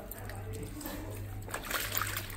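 Laundry being washed by hand in a basin of water at a pilgrim stop on the Camino de Santiago, with soft, irregular splashes and sloshing under steady background noise and a voice talking nearby.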